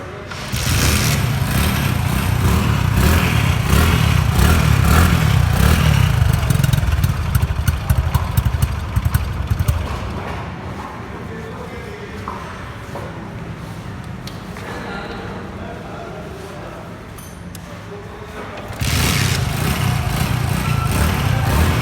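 A 2022 Honda Pridor motorcycle with a chrome-plated silencer idles and revs loudly, dropping to a quieter idle in the middle before revving up again near the end.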